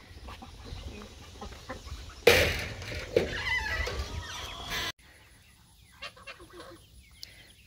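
A flock of geese honking and clucking nearby, loud and continuous for a few seconds, then quieter scattered calls.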